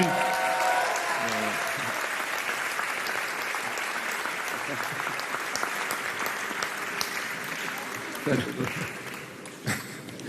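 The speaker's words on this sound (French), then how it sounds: "Allez, on l'applaudit." Enthusiastic applause from a crowd at the 2022 Ballon d'Or ceremony fills the room, steady clapping that gradually thins, with voices talking and calling out beneath it.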